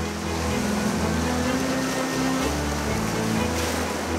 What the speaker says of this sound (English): They've created these big waves that have pounded the Dolerite cliffs